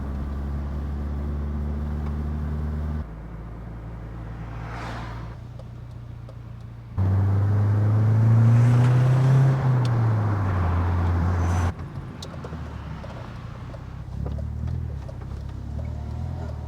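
A BMW E36 drives along the road, heard from inside as a steady low engine drone and road rumble that swells loudly for a few seconds as it accelerates, then eases back to cruising.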